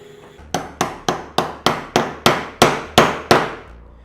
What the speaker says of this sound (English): out the striking force for the hammer on this piece to see how it holds.